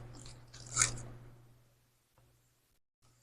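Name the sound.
crunchy bite of cornflake-coated ice cream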